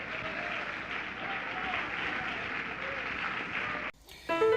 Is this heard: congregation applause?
yes